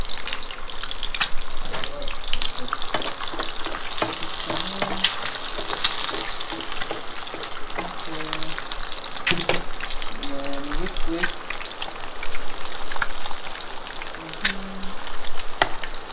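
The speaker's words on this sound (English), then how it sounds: "nalagyan ko na yung egg sa pan" An egg sizzles steadily in a pan on an electric stove, a continuous crackling fry with small pops, while a person talks over it.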